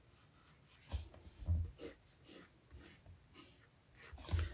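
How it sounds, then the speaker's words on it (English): Pencil sketching a cylinder on paper during a drawing lesson: soft, steady scratchy strokes in short repeated bursts, close and fairly quiet, with no talking. "Then we can draw and sketch in the rest of the cylinder."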